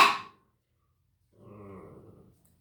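A pet dog makes a low, drawn-out growling whine that is fairly faint and heard alone. It follows a brief sharp noise and a stretch of silence.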